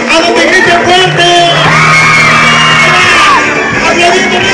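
Guests at a baptism celebration shout, whoop and cheer loudly together, a dense close crowd roar with children's voices rising and falling over the continuous din.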